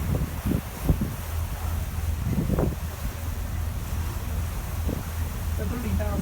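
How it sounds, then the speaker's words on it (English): Steady wind buffeting the microphone on a boat cruise among the islands of Georgian Bay, with waves washing along the hull and faint people talking underneath throughout. "people talking and the sound of the wind mostly while you look at the fantastic scenery"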